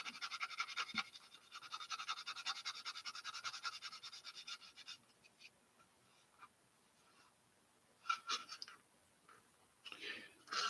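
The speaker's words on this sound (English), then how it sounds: "Maybe on this side I'll just sandpaper it." Sandpaper rubbing on a plastic AMT 1977 Ford model car kit part near the fender, a close, steady scratchy rasp for about five seconds, then a few short, quieter strokes separated by pauses.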